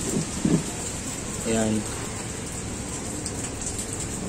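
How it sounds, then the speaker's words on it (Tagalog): Steady rain falls outdoors during a motorcycle seat assembly job, a constant broadband hiss throughout, with a brief spoken word and a short burst of voice over it. "Medyo tumitila na yung ulan."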